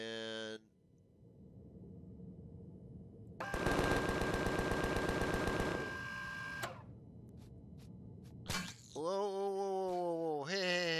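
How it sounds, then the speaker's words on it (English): Rapid automatic gunfire in the sci-fi survival game Empyrion - Galactic Survival, aimed at spiders: a dense, loud burst of shots lasting a couple of seconds, followed by a few scattered single shots, with game sounds and a voice around it. "I was shooting spiders."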